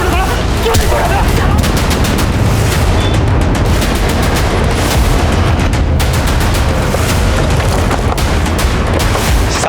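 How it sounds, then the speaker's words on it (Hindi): Gunshots ring out inside a building in a crime drama, a loud dense volley of rapid cracks and booms fired in quick succession with no pause. "साहब, अंदर से गोली चलने की आवाज आई थी।"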